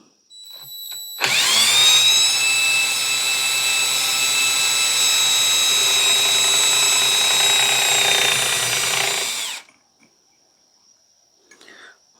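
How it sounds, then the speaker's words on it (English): A small drill bit bores a quick pilot hole in wood, a loud steady high-pitched whine lasting about eight seconds before stopping abruptly, followed by quiet. "just do a quick pilot hole"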